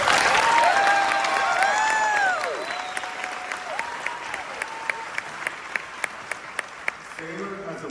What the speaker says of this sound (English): Please give a round of applause to our valedictorian this evening